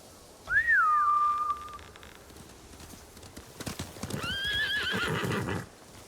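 Samurai horses in the video game Ghost of Tsushima: a loud, shrill neigh rings out first, hooves clop and gallop through the middle, then a second whinny rises over the running hoofbeats before fading.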